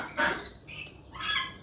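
A roughly two-year-old sun conure parrot gives three harsh, rasping squawks up close, with short gaps between the calls.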